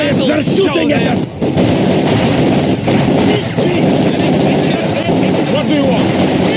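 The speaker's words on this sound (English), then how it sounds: "We're taking infantry fire!" Infantry gunfire in the WWII strategy game Company of Heroes 2 during Operation Barbarossa, dense overlapping rifle and machine-gun bursts crackling continuously with shouted battle voices mixed in.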